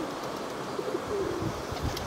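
Pigeons coo softly inside a pigeon loft, low murmuring calls in the middle of the stretch with faint chirps, quiet and close against a breathy background hiss.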